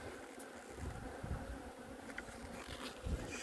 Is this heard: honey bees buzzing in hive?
yes